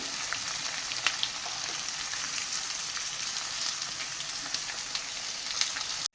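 A heap of onions stirred and frying in a pan makes a dense, continuous sizzle, close and steady, with a few faint scrapes of the spoon and no voices.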